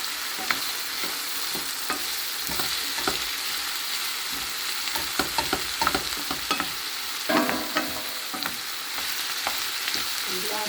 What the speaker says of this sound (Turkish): Soğanımızı sana zahmet karıştıracağım ha.